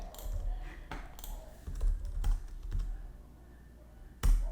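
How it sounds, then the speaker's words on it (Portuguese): Several separate computer keyboard key presses for a copy shortcut, spaced clicks with a louder final keystroke, close and clear with no talking. "Eu vou copiar aqui, Ctrl C."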